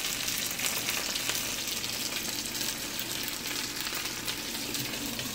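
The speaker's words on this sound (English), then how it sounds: "I've got my pasta drained, and now I'm going to pour it into the sauce." Drained pasta strands poured into a pan of hot sauce, a steady close sizzle and frying hiss with soft wet stirring and sloshing, running continuously without any talking.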